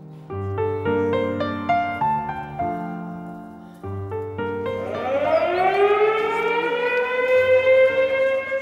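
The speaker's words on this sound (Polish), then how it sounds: "Zabrzmiały syreny, odezwały się dzwony o godzinie 17 godzinie W." A loud air-raid siren wails at 5 p.m. on W-Hour, with bells also sounding; its pitch climbs and holds steady after a stretch of stepped, ringing tones. No voices are heard.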